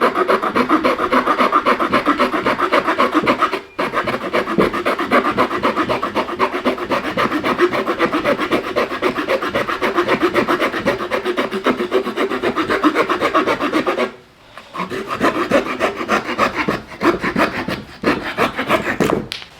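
Steady back-and-forth rasping strokes of a Victorinox Swiss Tool saw cutting through wood, close and continuous, with two brief pauses between runs of strokes.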